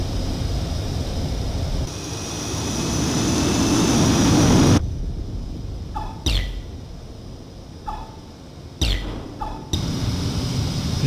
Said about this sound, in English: Mobius One, you are cleared for takeoff.